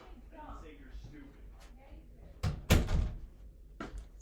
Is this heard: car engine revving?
no